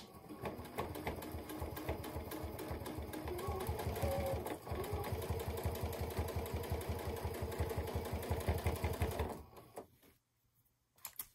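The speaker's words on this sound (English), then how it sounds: "Continue to sew all the way around." A sewing machine stitches binding around a pillow with a hidden zipper, running in a fast, steady, close mechanical rattle for about nine seconds before slowing and stopping, followed by a couple of faint clicks.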